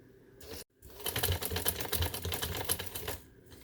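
A sewing machine stitches lace onto the round neckline of a winter garment, a short stop then a steady rapid mechanical whir close by, with no talking.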